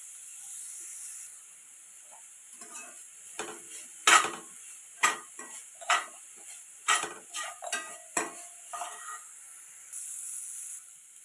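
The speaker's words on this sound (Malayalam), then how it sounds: "നല്ലപോലെ ഒന്ന് വഴറ്റിയെടുക്കണം" Onions sauté in a pan for chicken cutlet, a soft steady sizzle and hiss broken by repeated sharp scraping stirs of a spatula, close up with no voices.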